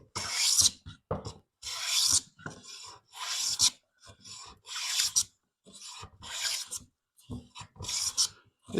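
A Stanley No. 40 scrub plane takes repeated strokes across air-dried Eastern white pine, each pass a rough, raspy shearing rasp, about seven close strokes in a steady rhythm with brief silences between.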